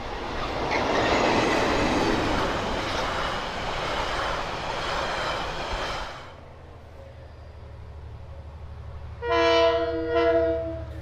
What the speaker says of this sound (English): by DFB 7010 and using the Capital Connection set, the excursion departed Fielding at 8 a.m.